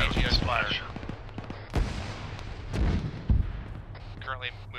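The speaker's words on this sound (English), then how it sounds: "Alpha, as well as portions of 1-3 are pinned down by AGS fire" AGS automatic grenade launcher fire in an Arma 3 military operation, heavy booming reports at irregular intervals, mixed with radio chatter and voices.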